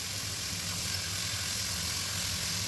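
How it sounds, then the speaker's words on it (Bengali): Dry chilies, cumin, five-spice and washed vegetables frying in hot oil in a wok give a steady, even sizzle and hiss that stays continuous and fairly quiet. "কড়াইতে তেল দিয়ে ফোড়নে শুকনো লঙ্কা, জিরে, পাঁচফোড়ন ও আগে থেকে ধুয়ে রাখা সবজি দিয়ে মিশিয়ে নেব"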